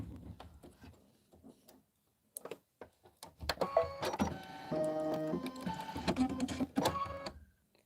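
A sewing machine stitches up close, starting with a few slow separate clicks, then running into a steady whirring, tonal mechanical buzz in bursts, with no talk over it.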